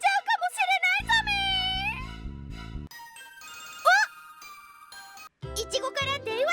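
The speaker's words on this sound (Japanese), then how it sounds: "いちごから電話" A bright cartoon-style phone ringtone signals an incoming call, chiming in quick bouncy melodic bursts with a low synth bass underneath, then pausing and starting again.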